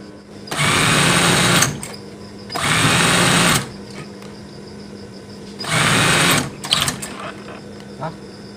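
An industrial-style sewing machine stitches a baby's hooded blanket in three loud, steady motor bursts separated by short pauses, with only faint room noise between runs.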